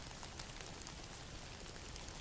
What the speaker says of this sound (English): in that darkness with that rain as our soundtrack